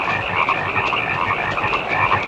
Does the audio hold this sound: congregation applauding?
no